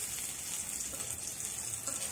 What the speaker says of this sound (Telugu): ఇదిగోండి పచ్చిమిర్చి ఇలా బాగా వేపాలండి.